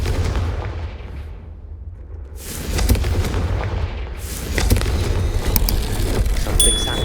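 A Confringo fire spell in the Hogwarts Legacy video game erupts in a loud, rumbling blast with sharp cracks, followed by a second surge of booming noise a couple of seconds later, dense and close.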